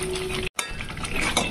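Fish curry being mixed in a pot, with a spoon scraping and clinking against the metal in quick, close strokes and a brief pause partway through.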